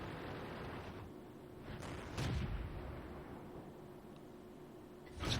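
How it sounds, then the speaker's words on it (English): Artillery fire in the World of Tanks video game, with a sharp boom near the middle and another at the end over a steady rumbling battle noise. "There's artillery."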